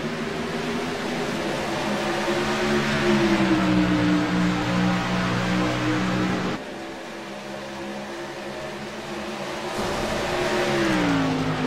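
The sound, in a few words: race truck accelerating out of a turn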